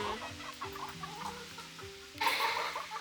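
A bantam American silkie hen clucks in a series of soft, rhythmic low calls close by in an English countryside garden, followed by a brief burst of rustling noise at the end.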